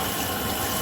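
Running tap water streams steadily over pink salmon being rinsed in a kitchen, a close, continuous splashing gush with no voices.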